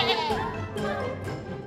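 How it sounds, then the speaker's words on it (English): A cartoon sheep bleats in fright, a few loud, wavering cries in close succession, shrill and trembling, with no other sound competing. "The sheep is scared for life and begins screaming."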